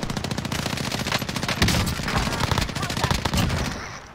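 Rapid automatic gunfire in the Call of Duty Warzone video game, dense bursts of shots rattling continuously for several seconds, fairly loud, with faint voices underneath.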